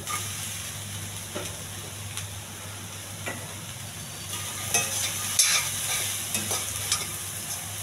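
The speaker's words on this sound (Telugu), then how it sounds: "కొంచెం ఉప్పు కారం పట్టేంతవరకు వేగించాలి." Boiled beans and peas with salt and chili fry in a pan, giving a continuous soft sizzle with occasional scraping stirs and light taps, close and moderately quiet.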